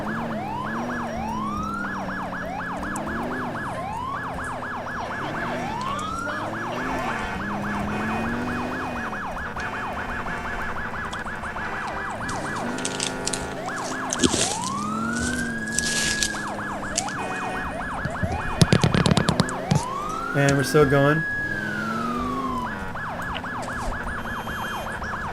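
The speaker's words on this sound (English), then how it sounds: "Alternating the horn siren." Video game emergency vehicle fitted with an ELS mod, its horn siren alternating with wailing and yelping tones in a loud, continuous cycle while moving through traffic; one short phrase is spoken.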